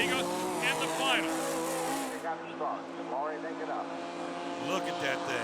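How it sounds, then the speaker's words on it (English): A high-horsepower racing machine's engine sits up on the rev limiter during a final-round race, a loud, sustained, buzzing harmonic drone that wavers slightly as a commentator talks over it. "Up on the rev limiter right there, Roy Ortega trying to join Troy Ortega in the final."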